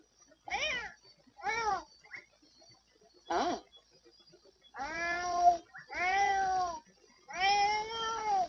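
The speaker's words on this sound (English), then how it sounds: "my cat does actually chase his tail" A pet cat in The Sims 4 meows six times, close and clear against silence: three short, spaced calls, then three longer, drawn-out yowls.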